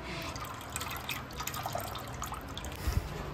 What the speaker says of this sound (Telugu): ఇంకా నానబెట్టిన ఎండు రొయ్యలు అనేది కాస్త వాష్ చేసుకొని ఆ తర్వాత చింత చిగురు కూడా కొంచెం వాష్ చేసుకోవాలండి.